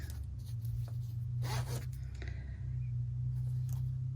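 A zipper is pulled in a few short rasping strokes, close by, over a steady low electrical hum.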